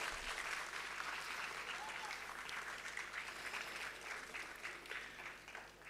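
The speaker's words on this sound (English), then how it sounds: "A big round of applause for Professor Avitathur." Audience applause at an academic award ceremony and foundation day lecture, a large hall filled with dense, steady clapping that holds evenly for several seconds, heard from a distance at fairly low level.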